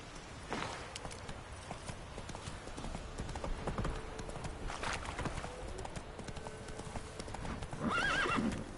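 Roach the horse galloping in The Witcher 3, a steady close clip-clop of hooves running throughout, with a whinny near the end.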